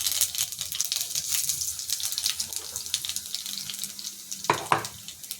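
Dry red chilies and black cumin hit hot oil in a kadai, giving a steady close sizzling hiss with a couple of sharper metallic clanks near the end and no talk.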